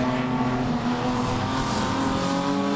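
Ford and Holden race cars lapping the Archerfield track in November 2017, their engines holding a loud, steady, droning roar close by with no break.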